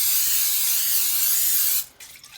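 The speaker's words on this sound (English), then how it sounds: "What I do next is I will just lightly spray it" A continuous close hiss of cooking oil sprayed from a can onto a fruity cereal treat mixture, lasting nearly two seconds before cutting off.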